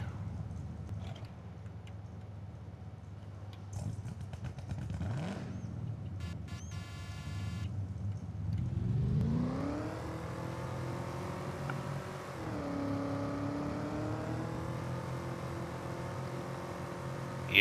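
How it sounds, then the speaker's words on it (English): A classic Ford Mustang engine in Farming Simulator 22 idles low, then rises into a loud, sustained rev with a climbing pitch, dips briefly, and holds a strong roar until the end. "just hear that engine roar"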